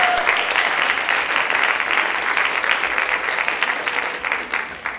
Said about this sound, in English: please, another round of applause for Janos and Georgia and their team